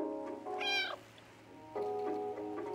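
Two distinct cat meows from the video game Stray, the first rising and falling, the second shorter and lower, heard over a faint electronic background hum.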